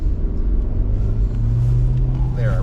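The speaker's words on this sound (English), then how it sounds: "There, I revved up to about 4." A 2021 Hyundai Elantra with manual transmission revs up inside the cabin, a steady low engine drone rising in pitch toward the end, heard up close throughout.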